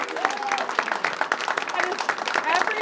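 A crowd of coworkers in a school district Facility Services Department applauds an employee of the month, with steady clapping, some cheering and voices talking over it throughout.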